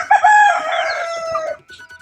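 A rooster on a free-range poultry farm crows loudly and close by for about one and a half seconds, the call stopping abruptly before a few faint clucks from the flock.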